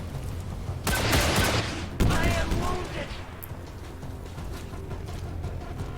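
Gunfire and an explosion in the video game XCOM 2, heard as a loud burst of crackling fire followed by a blast that fades into quieter battle noise, with a voice at times.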